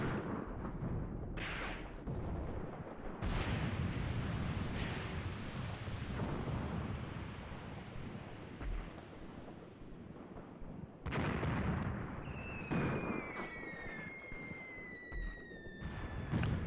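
Mortar and artillery fire in the Graviteam Tactics: Mius Front battle game: repeated heavy booms and rumbling blasts rolling one after another, loud and dense, with whistling incoming shells near the end.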